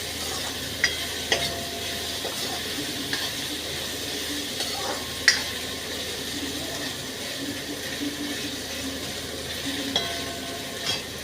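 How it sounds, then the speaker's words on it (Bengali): Bitter gourd slices fry in oil over high heat, making a continuous hissing sizzle with occasional light clicks and taps of a utensil, with no talking throughout. "এখন ভাজাটা বড় আঁচে ভেজে যাচ্ছে।"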